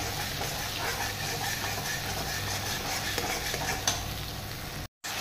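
A paste of coriander, cumin and tomato is sautéed in a pan, giving a steady moderate sizzle with intermittent stirring scrapes and a brief break near the end.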